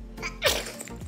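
A short, sharp sneeze bursts out midway through a quiet indoor moment while someone is doing their makeup, a single close, explosive puff of breath that rises quickly and fades within about a second.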